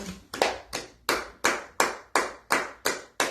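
A church congregation claps in a steady, evenly spaced rhythm, about ten sharp, close claps with no talking.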